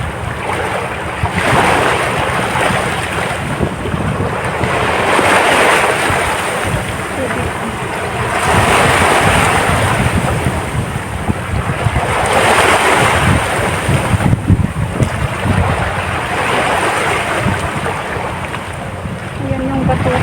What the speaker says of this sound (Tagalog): Dito ako sa tabing dagat.